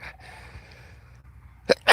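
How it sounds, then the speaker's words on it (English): A person sneezes sharply near the end, two quick bursts after a short stretch of quiet breathing and faint room noise. "Hold on, I gotta sneeze."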